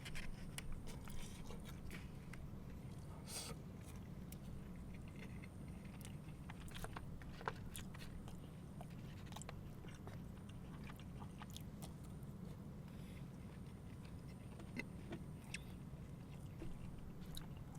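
Faint, close chewing and biting of wood-fired barbecue meat during a late-night meal, with soft wet smacks and scrapes scattered over a steady low background hum.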